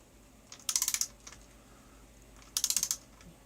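A torque wrench tightens cylinder head bolts on a Polaris XLT snowmobile engine, giving two quick bursts of rapid ratcheting clicks about two seconds apart, close and crisp with no talking.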